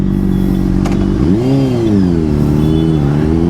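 A Honda CBR600RR supersport motorcycle with an M4 full-system exhaust revs up steadily, its engine pitch rising and falling in a smooth, close, continuous drone with no talking.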